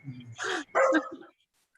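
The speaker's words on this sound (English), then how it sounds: "you've got a dog in microphone shot" A dog barks a few sharp, close woofs in quick succession near a microphone during a casual café conversation stream, then falls silent.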